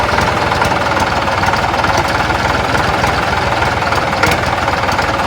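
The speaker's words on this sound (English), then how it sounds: "Let's give it a rev. That's right, isn't it? Yeah, it's missing." An old tractor engine runs loud and close, revving with a rough, uneven knocking beat where cylinders miss, steady for several seconds with no talk over it.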